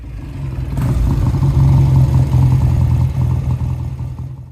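A 1958 BSA A10 motorcycle engine on a road test, running close and loud with a steady throbbing drone that swells as it revs, then eases off at the end.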